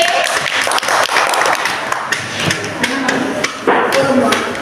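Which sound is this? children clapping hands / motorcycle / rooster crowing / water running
children clapping hands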